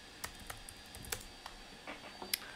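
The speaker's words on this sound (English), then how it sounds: "You want to type on, type in the search bar TransMac" Quiet, sparse keystrokes on a computer keyboard while a search term is entered into a web browser, a handful of light separate clicks spaced irregularly over a low background hiss.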